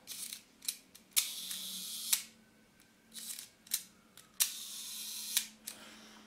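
A Rolleicord IV twin-lens camera with a Xenar 75mm lens and a sticky slow gear, its shutter mechanism cocked and fired repeatedly, giving a string of close, crisp mechanical clicks at uneven intervals in a quiet room.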